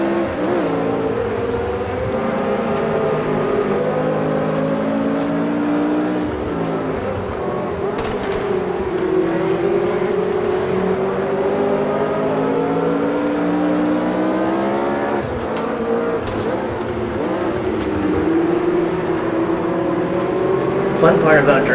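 Lotus 49C vintage race car in a racing video game, circuit of Jerez, its engine droning loud and continuous with rising and falling revs through gear changes and corners.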